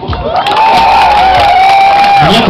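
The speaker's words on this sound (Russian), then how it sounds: "Знающие люди хлопают, остальные молчат." Loud crowd at a dance festival in Izhevsk cheering and clapping, with shouts and whoops swelling into a sustained roar of applause that fills the space throughout.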